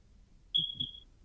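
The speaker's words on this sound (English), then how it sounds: "I was waiting for the smoke detector to pop in at that moment." A smoke detector gives a single clear high-pitched electronic beep, about half a second long with a brief dip in the middle, fairly close against a quiet room with a faint low murmur.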